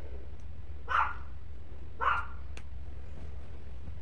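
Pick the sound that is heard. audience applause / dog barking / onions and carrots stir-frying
dog barking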